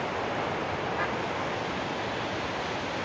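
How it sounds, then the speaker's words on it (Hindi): Fast water rushes through the fully opened gates of a river barrage, a dense, continuous roar with no breaks and no voices over it. "बहुत स्पीड में पानी आ रहा है, अभी दरवाजे इसके फुल खुले हुए हैं"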